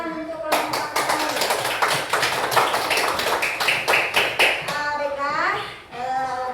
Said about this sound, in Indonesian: Tepuk tangan untuk kelompok kami.